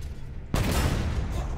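Object 640 tank in a video game fires its gun once after a short quiet stretch, a sudden loud blast followed by a long, broad rumbling decay.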